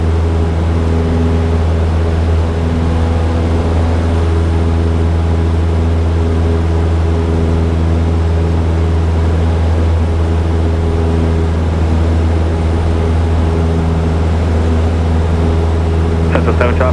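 Cessna Skyhawk light aircraft taking off from runway 26L at Chino Airport, a steady loud droning engine and propeller hum heard from inside the cabin, constant throughout.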